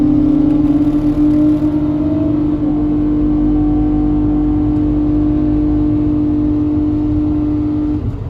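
A car engine with a CVT transmission holds a steady high drone at constant revs, loud and close, without any gear changes.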